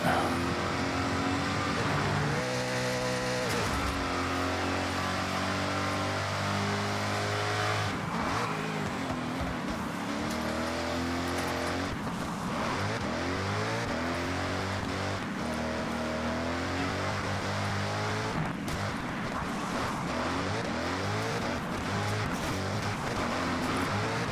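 A car with a Turbo Hydramatic automatic transmission accelerates hard in Forza Horizon 6, its engine droning loud and steady with rising and falling revs throughout, close up and with no talk over it.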